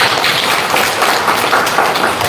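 Brief burst of audience applause, dense and close, many hands clapping together for about two seconds at an Indonesian charity event.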